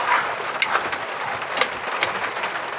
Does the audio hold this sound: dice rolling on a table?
no